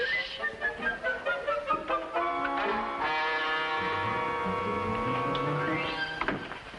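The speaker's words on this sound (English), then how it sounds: "Oh, kitty, nice, kitty." A cat meows in a long drawn-out, wavering call indoors in a 1950s TV sitcom scene, preceded by a few shorter sounds, loud and close with no talking over it.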